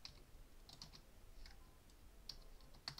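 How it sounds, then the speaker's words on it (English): Quiet typing on a computer keyboard during an online UNO game, a few scattered short clicks and small bursts of keystrokes spread irregularly across the moment, with a couple of sharper taps standing out near the end. "I'm typing a meme"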